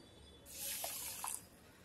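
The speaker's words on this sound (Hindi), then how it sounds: "और उतना ही हम पानी भी डाल देंगे" Water poured into a pot holding one cup of sugar to start a thin syrup for laung lata sweets, a short splashing pour of about a second with a couple of small drips near the end, close and fairly quiet.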